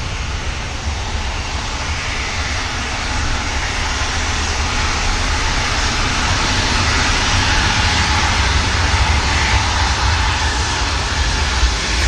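A KLM airliner rotates on takeoff at Manchester Airport, its engines producing a loud, steady broadband roar that holds strong throughout with no talk over it.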